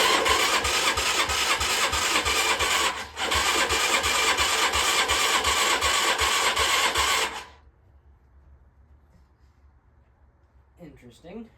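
Engine of a beat-up 1980s Yamaha Tri-Moto three-wheeler running loud and close while warming up, with a rapid rattling putter and one brief dip, then cutting off to near silence before a short sound at the end.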